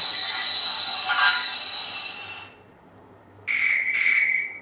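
Brake sound effect from a Hornby HM6000 model train sound controller: a loud hissing, squealing release lasting about two and a half seconds, a short quiet gap, then a second shrill burst.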